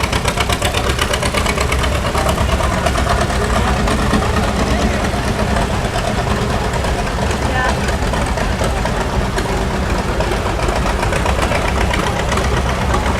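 A John Deere A tractor with a gutted muffler runs loudly and steadily for about thirteen seconds, a dense, rough engine rumble with people talking over it.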